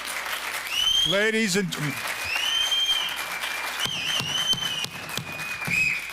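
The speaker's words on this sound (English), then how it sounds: "Enough of the applause, please." Loud, sustained audience applause at a city commission meeting, a crowd of many hands clapping with scattered whistles and a brief voice cutting through near the start.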